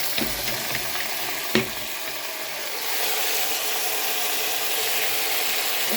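Rice being stirred in a pot with fried vermicelli for Egyptian koshari: a steady close sizzle with a few sharp scrapes of the spoon early on, the frying hiss swelling slightly halfway through.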